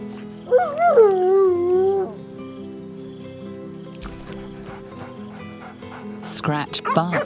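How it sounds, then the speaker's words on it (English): The dog Scratch in the video game Baldur's Gate 3 gives a drawn-out, rising and falling whine, then after a quiet stretch lets out a few quick, bright yips and barks. "Scratch barks merrily in something like agreement"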